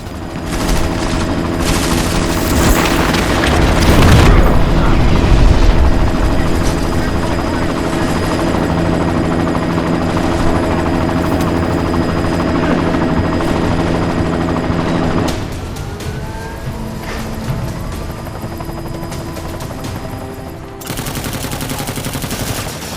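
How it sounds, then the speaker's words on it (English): Helicopter in the video game Deus Ex: Mankind Divided, loud and close with steady rotor thrum, mixed with bursts of gunfire and explosions, the din thinning briefly near the end. "You've got to stop that chopper."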